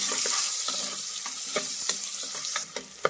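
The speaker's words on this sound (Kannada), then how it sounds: "ಈ ಈರುಳ್ಳಿನ ಫ್ರೈ ಮಾಡಿ." Thinly sliced onions (three) sizzle in a pan for egg donne biryani, a loud continuous frying hiss close by, punctuated by light stirring scrapes and a couple of clanks near the end.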